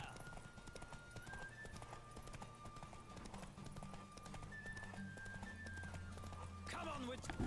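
Horses race at a gallop in The Witcher, their hooves a rapid, continuous clip-clop under talking voices, ending with a brief neigh.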